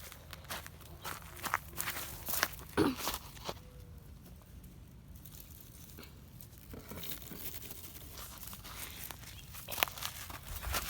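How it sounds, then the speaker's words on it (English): Footsteps shuffle and crunch close by over about eleven seconds, irregular steps and scuffs with a few sharper impacts, fairly quiet and with no talking over them. "Wait, you hear that? It sounds like footsteps."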